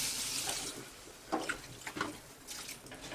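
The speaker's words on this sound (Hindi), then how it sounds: "अब हम इसमें डालेंगे पानी।" Running water splashes and trickles steadily into a cooking pot of potato curry, with a few brief clinks and splashes along the way; no one speaks.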